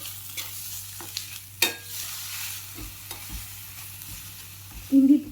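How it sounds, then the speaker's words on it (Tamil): Onions sauté in a pan toward golden brown with a soft, low sizzle, punctuated by occasional spoon taps and one louder knock near the end, close and without talk. "இப்போ வெங்காயத்தை ஒரு கோல்டன் ப்ரௌன் கலர் ஆகிற வரையும் நம்ம வதக்கிக்கணும்"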